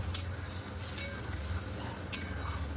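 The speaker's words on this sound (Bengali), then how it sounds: "চলো মশলাটাকে একটু কষিয়ে নিই" A ground spice masala frying in a pan as it is stirred, a soft steady sizzle broken by a few sharp scraping strokes of the spoon, with no talking.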